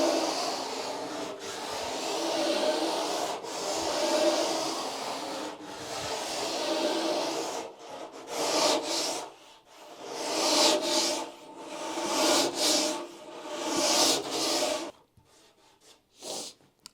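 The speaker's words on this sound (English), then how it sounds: "use this little curved sanding block that has an 80" Hand sanding along the rail of a Verdure surfboard blank of cork and resin with a small curved block faced with 80 grit gauze: steady close rasping strokes in long sweeps, then shorter bursts with brief pauses near the end.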